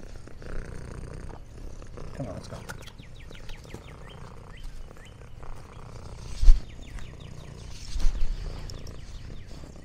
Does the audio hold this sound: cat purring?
yes